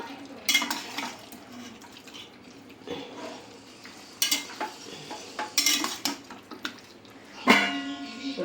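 A spoon stirs and scrapes chicken curry in a pot, giving intermittent clinks and scrapes over a quiet simmer, fairly close and moderately loud.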